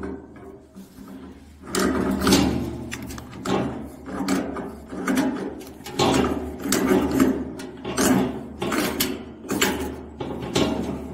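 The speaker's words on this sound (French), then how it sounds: "On serre avec une pince." A gas heater fitting is tightened with pliers, giving repeated close rhythmic metallic creaks and grinding turns in a steady cycle of roughly one per second.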